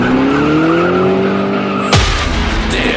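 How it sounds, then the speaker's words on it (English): A rising squeal of tires over a loud engine, ending abruptly in a sharp burst, with rough noise trailing after. "if the hair on the back of your neck stands up when you hear tires squeal"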